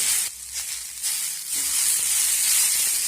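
Vegetables that have just been steamed under a lid sizzle in a wok with a bright, continuous hiss as they are turned over, the noise briefly dropping away then returning fuller.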